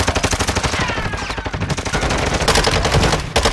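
Loud, dense automatic gunfire from Call of Duty: Modern Warfare II rattles without pause, with rapid shots stacking into a continuous barrage for the whole stretch.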